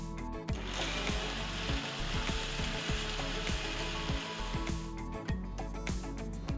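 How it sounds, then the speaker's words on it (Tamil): Mixer grinder whirring steadily as it blends coriander, green chilies, cashews and thick fresh yogurt into a smooth green paste for hariyali egg curry, a continuous loud motor drone with slight rhythmic pulsing and no talking. "எல்லாத்தையும் நல்லா ஸ்மூத்தா அரைச்சி எடுத்துக்கலாம்"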